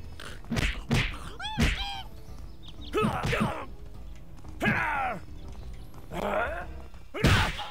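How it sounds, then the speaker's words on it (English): Heavy melee punches land in the brawler game Zeno Clash: a series of sharp thuds and whacks, with groaning, warbling creature voices between the hits, close and fairly loud. "Oh, big punch."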